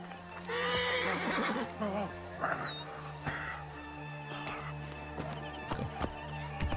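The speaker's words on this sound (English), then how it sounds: "I'll just steal one of these horses." A horse in Assassin's Creed Origins whinnies loudly up front, then its hooves clatter into a gallop amid game music and ambient effects, with a few sharp impacts along the way.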